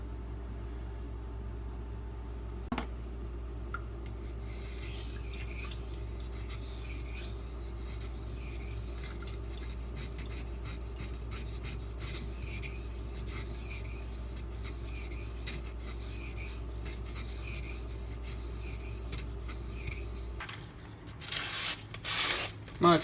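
A Spyderco Native 5 Maxamet knife blade is drawn across a sharpening stone in a steady series of soft rhythmic rasping strokes over a constant low hum, ending with a few louder clatters.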